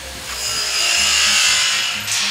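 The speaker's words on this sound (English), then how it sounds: "I grinded that corner out to go around that weld" A grinder cuts out a corner of fabricated welded metal, a loud, steady, close high-pitched whine and rasp lasting throughout, rising slightly before trailing off at the end.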